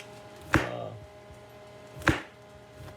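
A knife chops the ends off a squash on a cutting board: two sharp, close chops about one and a half seconds apart, with a third starting at the very end, alone in a quiet room.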